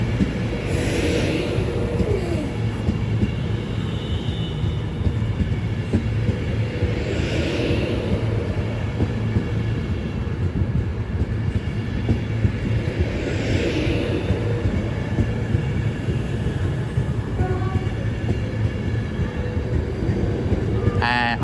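Class 390 electric train pulling into Stafford station on the West Coast Main Line, a steady close rumble and whine of rolling stock running continuously under faint ambient noise.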